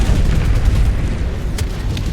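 A video game battle with tanks and vehicles fills the air with dense, rapid gunfire and booming explosions, a loud continuous barrage of sharp cracks over a heavy low rumble.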